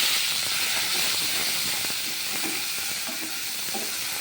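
Pumpkin leaves frying in a pan give a steady, broad sizzle and hiss, with soft scraping stirs heard faintly underneath throughout.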